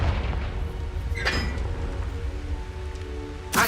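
Confringo fire-blast spell from Hogwarts Legacy bursting in a sharp crackling blast over a steady low game rumble, with a second brief impact right at the end.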